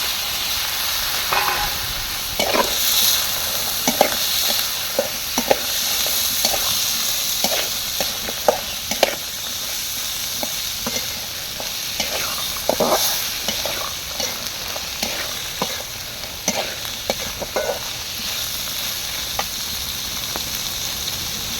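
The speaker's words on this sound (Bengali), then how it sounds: "তো মশলাটা ভাজা হয়ে গেছে, এখন দিয়ে দেবে বুট।" Chickpeas fried in a pan with spice paste of garlic, turmeric, salt and green chilies, sizzling steadily close up while a spoon stirs and scrapes at irregular intervals, with no talking.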